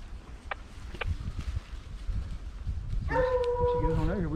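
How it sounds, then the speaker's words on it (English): Bear-hunting hounds on a track, heard at a distance: a few faint early barks, then a long drawn-out howl near the end. Wind and handling noise run underneath. "Barking, George, so it must be a pretty good track."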